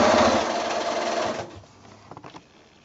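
A sewing machine runs close by in a fast steady whir while stitching a Balkan Puzzle quilt block from 2 1/2 inch squares, stopping after about a second and a half, then a few faint clicks.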